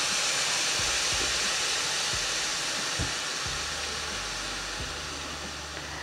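Steam escapes in a steady, moderate hiss from a pressure cooker whistle as chana dal curry cooks. A few soft low thumps are scattered through it, and the hiss slowly fades over several seconds.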